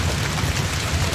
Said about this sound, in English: It's still raining quite heavily